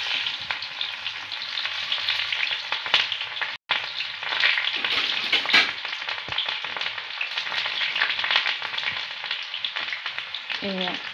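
Onions frying in a hot pan, a steady close sizzle with scattered crackles and a brief stir, continuing throughout with only a momentary cut.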